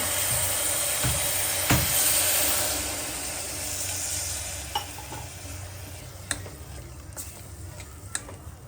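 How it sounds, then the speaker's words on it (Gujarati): Corn and vegetables sizzling in oil while frying for a Gujarati village-style corn curry: a continuous close hiss, with sharp clicks of a utensil stirring against the pot scattered across it. "તો આ રીતે શાક ખરસાવી દીધું આપણે, એટલે થોડુંક તેલમાં સડી ગયું."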